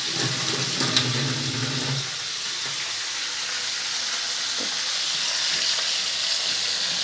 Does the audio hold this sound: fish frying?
yes